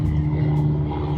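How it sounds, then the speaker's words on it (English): A loud, unmuffled airplane drones overhead in a steady, heavy roar with a deep hum, near and constant, with no voices. "What kind of plane is that? It's a loud one."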